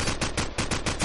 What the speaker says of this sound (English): Fire shots going out everywhere.